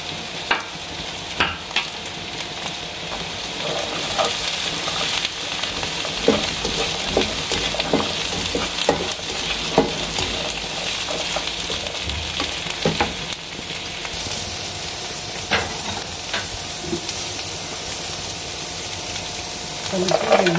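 Peas and carrots sauté in a pan for vegetable soup, a steady close sizzle and crackle with scattered clicks of stirring throughout.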